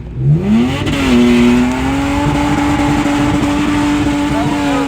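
A car engine in a racing sim video game revs and holds a high, steady drone while drifting, rising in pitch at the start then sustaining loudly and alone.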